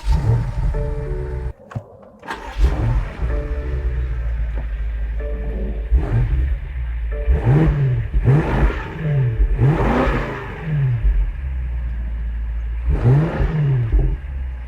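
A 2021 BMW X6M Competition V8 starts with a click and whir, then fires up and idles before several sharp revs rise and fall, loud and close, with no talking.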